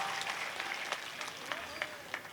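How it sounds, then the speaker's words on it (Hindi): Scattered audience clapping at a Hindi kavi sammelan poetry recital in Rampur, a steady patter of hands with a few sharper claps, moderately close and fairly faint. "तालियां बजाइए।"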